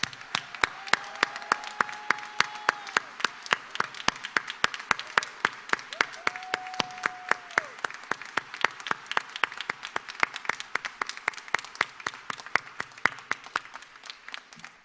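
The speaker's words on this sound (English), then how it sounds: "join me in congratulating you with a round of much-deserved applause" Convocation audience at a university ceremony gives a standing round of applause for a faculty member, with many distinct, crisp claps in a steady, sustained patter at moderate distance throughout.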